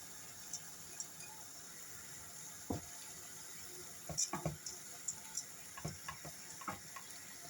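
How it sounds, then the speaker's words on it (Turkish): Hot water poured over washed rice in a pot for a Turkish eggplant pilaf, quiet splashing and a few soft clinks and drips over a faint watery hiss, close and low in level. "Şimdi üzerine sıcak suyu ekliyorum."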